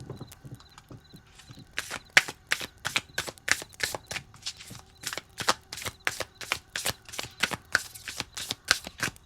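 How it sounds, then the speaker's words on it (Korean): Tarot cards drawn one after another from a deck, giving a steady run of crisp, close papery snaps and slides, about two a second, clean and isolated with no voices. "여러분이 뽑아주신 이 카드 덱으로 카드를 뽑아볼게요"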